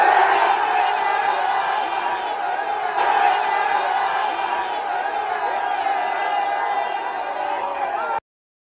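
A large crowd of Knicks fans outdoors chanting and yelling at Spidey, a loud sustained roar of massed voices lasting about eight seconds before cutting off abruptly.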